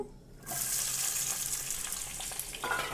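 Onions frying in oil in a kadai, a dense steady sizzle that swells in after a quiet start and holds close and continuous with faint stirring clicks, no voices.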